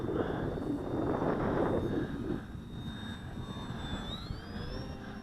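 A Durafly Tundra RC model airplane flying and climbing downwind: a thin, steady motor whine rising in pitch over a heavy rush of wind noise, heard from a distance.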